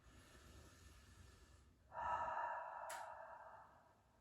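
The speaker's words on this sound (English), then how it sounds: "And another big belly breath." A deep belly breath, a soft airy inhale followed by a louder, longer exhale that fades out near the end, heard close during a relaxed mobility stretch.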